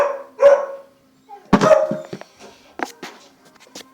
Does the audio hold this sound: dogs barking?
yes